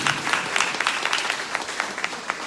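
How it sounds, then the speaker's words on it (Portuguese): Church congregation at a Thursday prayer service applauding together, a steady patter of many hands clapping with sharp bursts, close and fairly loud, with no talking over it. "Você pode aplaudir,"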